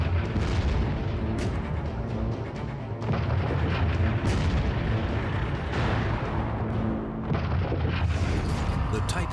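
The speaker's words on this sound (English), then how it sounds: "The type of tank destroyer blasting away for the 601st is the 75mm gun motor carriage M3." M3 75mm gun motor carriage half-track tank destroyers firing in a wartime battle, heavy booming blasts repeating every few seconds over a dense, rumbling battlefield din.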